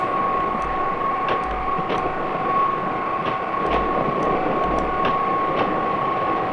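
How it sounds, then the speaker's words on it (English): A train passing in a city, heard from a window as a steady, loud rolling rumble with a sustained whine and periodic clicks of wheels over rail joints, continuous throughout without talk. "There's another train."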